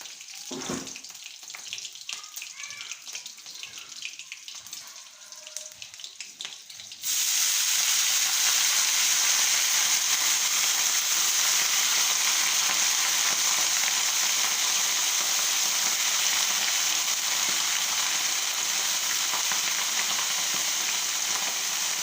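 Bay leaves frying in hot oil for a home-cooked dish: quiet faint clatter at first, then a sudden loud, steady broadband sizzle that hisses continuously to the end, with no talk.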